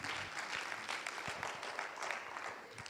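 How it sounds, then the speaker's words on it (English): Audience applause at the close of a panel session at a UN global supply chain forum, steady dense clapping throughout, moderately distant and fairly even in level. "Please give a round of applause to our panelists."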